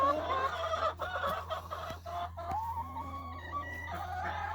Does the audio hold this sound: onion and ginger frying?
no